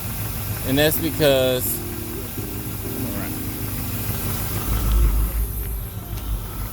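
Car engine idling with a steady low rumble throughout, a car audio system and alternator nearby, with a voice talking briefly over it near the start.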